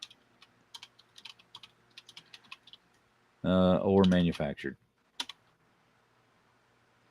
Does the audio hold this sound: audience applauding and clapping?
no